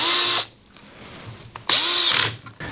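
A power drill drives screws into an aluminum hex disc in two bursts, each a loud high whir that rises in pitch, separated by a brief quiet pause with light handling clicks.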